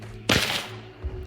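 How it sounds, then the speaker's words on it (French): A flare pistol fires in the Hunt: Showdown video game with one sudden loud bang and a hissing burst as the projectile flies off burning. A softer thud follows shortly after, over a low steady background hum. "Ça c'est le bruit, c'est le bruit du projectile qui part en feu."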